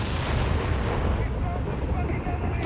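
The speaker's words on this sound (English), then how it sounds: "Stuke getting bombarded." Artillery bombardment in Company of Heroes 3 pounds on steadily, a dense, continuous rumble of explosions and shots, with a voice speaking under it.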